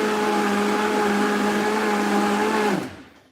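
A blender grinds frozen smoothie ingredients in a loud, steady whir that holds for nearly three seconds before winding down and cutting off, with no talking over it.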